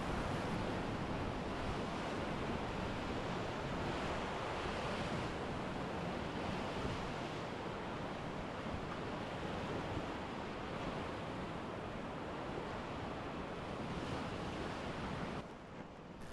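Steady, loud roar of whitewater rapids in the lower canyon of the Middle Fork of the Salmon River at low water, heard from a rowed raft, with constant broadband rushing and a slight drop at the very end.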